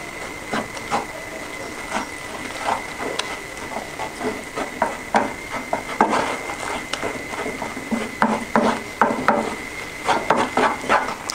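Flour roasting in oil in a pan, stirred with a spoon that scrapes and knocks against the pan in an irregular string of small taps and scrapes over a faint steady hum.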